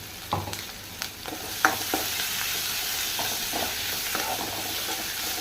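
Onions sauté in a pan under a constant soft sizzle, while a spoon stirs them with scattered scraping taps, close and moderately quiet, with no voices.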